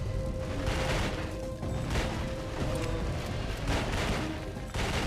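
Semi-automatic gunfire in a PS2 shooter, a rapid series of sharp separate shots with brief gaps between bursts, loud and close over a busy game soundscape.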